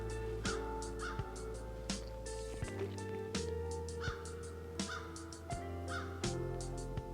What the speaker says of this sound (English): Sounds like the crows are over at that deer.